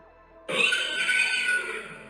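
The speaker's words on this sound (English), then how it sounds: "one of the horses screams out from the barn" A horse screams out from inside a barn, a sudden loud, sustained shrill whinny that bursts in after a quiet moment and holds strongly for over a second and a half.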